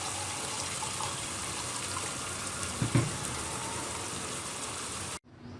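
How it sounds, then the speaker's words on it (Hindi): Water pours steadily into a pot on a medium flame for mutton moti pulao in a continuous rushing splash, cutting off abruptly near the end. "तो अब मैं डालूंगी इसमें पानी।"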